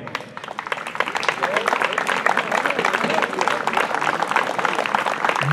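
Audience at a horse-racing track celebration in Flores, 2023, applauds steadily and loudly with a dense mix of clapping and crowd noise that fills the whole span, while an announcer talks over it.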